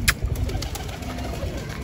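Pigeons on a rooftop are fed grain, giving soft coos and scattered pecking and rustling sounds near at hand, fairly quiet and steady with no talk.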